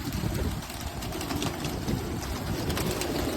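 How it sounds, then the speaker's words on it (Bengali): Pigeons coo in a low, soft murmur over steady broadband background noise, continuous through the moment with no clear single calls standing out. "এই যে কবুতর কি সুন্দর"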